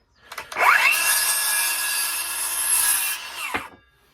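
A Dewalt DCS570 cordless circular saw spins up sharply to a loud, steady high whine, holds for about three seconds, then brakes abruptly to a stop.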